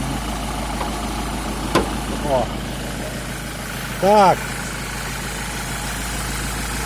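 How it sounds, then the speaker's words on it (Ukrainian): A diesel engine of an Iveco Daily van idles steadily and quietly in the background while a person speaks briefly over it. "Чуєте, як працює бензиновий мотор."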